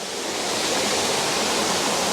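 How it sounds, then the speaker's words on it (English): Water rushes steadily over small cascades, a loud, close, continuous broadband roar with no voices. "I'm going to zoom in on the water on a couple of those little cascades."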